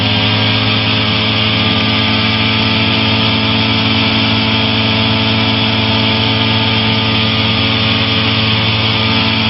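A light aircraft's engine drones steadily and loudly in flight, a constant even hum that barely changes as the throttle is eased up slightly.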